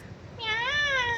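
A cat in Kuwait gives one clear meow up close, rising and then falling, over a faint background hiss.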